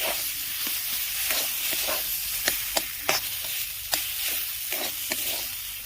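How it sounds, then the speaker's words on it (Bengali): Food seasoned with salt and turmeric is stirred in a pan, giving a steady faint sizzle broken by a string of sharp spoon scrapes and taps, close and with no talking. "দিয়ে এটাকে বেশ নাড়াচাড়া করে নামিয়ে নেব"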